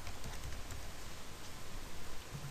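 Soft, quick keystrokes on a computer keyboard as a short word is typed, faint and slightly irregular over a hissy background for a couple of seconds.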